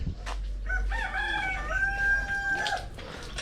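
A rooster crows once in a drawn-out, wavering call at a birthday gathering, fairly close and clear over faint background noise.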